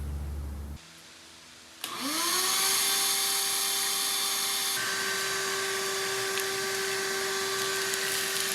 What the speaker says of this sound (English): let's vacuum some of this stuff up